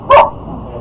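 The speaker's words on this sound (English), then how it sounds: "There goes the dogs." One dog gives a single short, loud bark close by, then only faint background room noise follows.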